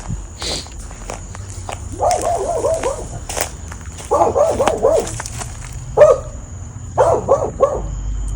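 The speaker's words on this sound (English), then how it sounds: "Excuse my neighbor's dog over here." A neighbor's dog barks in repeated bursts of rapid yaps, several clusters spaced a second or two apart, moderately loud and a little distant outdoors, with footsteps and light rustling around them.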